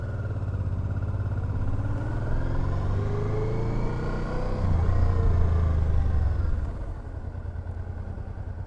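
A 2010 Honda Deauville NT700 motorcycle riding on the road, its engine a steady, loud rumble throughout with a brief rise in intensity near the middle before easing slightly.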